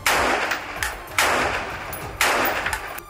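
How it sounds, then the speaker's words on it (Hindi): A soldier fires several rounds from a window toward a building during Israel-Hamas fighting: three loud, sharp gunshots about a second apart, each ringing out with echoing reverberation and no voices. "खिड़की पर बंदूक ताने खड़े इस सैनिक ने कई राउंड फायरिंग की।"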